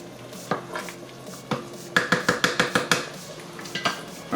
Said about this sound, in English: Go ahead and mix some of that in there.